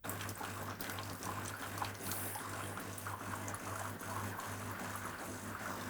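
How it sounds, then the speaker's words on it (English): A DeLonghi Eletta Explore coffee machine runs its initial rinse, pushing water through the nozzles with a steady hiss and trickle under a low, even pump hum. "find a way to bypass the nozzles with the initial rinse so the rinsing water wouldn't end up in your cup"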